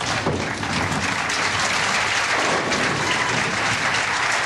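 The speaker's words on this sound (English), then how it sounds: "The Husted clan clapping away here in Kennewick, Washington." Bowling tournament crowd in Kennewick, Washington, at the 1994 Kennewick Open, applauding loudly and steadily, a dense wash of clapping with no talk.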